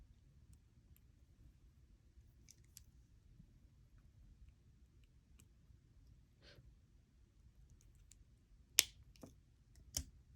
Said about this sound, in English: now I can cut my wire